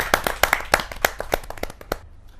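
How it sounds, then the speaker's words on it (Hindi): An audience at a Kavi Sammelan poetry gathering applauds a poet with brisk, scattered hand claps that come thick and close at first, then thin out and fade after about two seconds. "जोरदार तालियों के साथ रसिक गुप्ता जी का"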